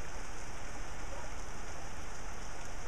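Rain falling outdoors on a rainy day by the water, a steady, even hiss of drops that continues unbroken and fairly soft for the whole stretch.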